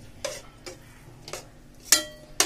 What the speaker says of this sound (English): Now I will add all the dry fruits and stir it well.